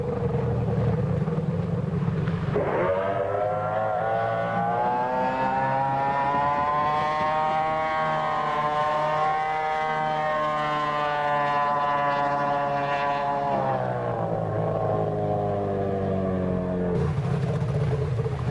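A drag boat's high-revving engine screams and climbs in pitch during a powerboat race, holding a loud sustained whine at full throttle before dropping away.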